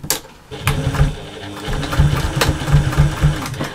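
A sewing machine topstitches a slouchy bag, its motor hum and needle pulsing starting after a short pause and running close and steady.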